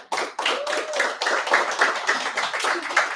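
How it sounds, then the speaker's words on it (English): Audience applause for a customer experience team at a company event, a burst of dense clapping that starts abruptly and holds steady and fairly loud for a few seconds. "I want you to give a round of applause to the CX team"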